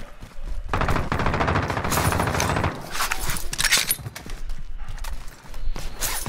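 Gunfire in Call of Duty Warzone, heard as a dense, loud burst of rapid automatic shots that continues for a couple of seconds, then scattered shots and bursts mixed with game noise.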